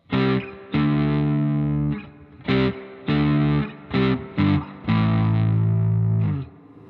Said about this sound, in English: You can really hear the distortion coming out.